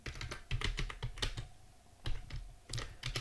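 Python code typed on a computer keyboard, quick bursts of close, crisp key clicks broken by short pauses.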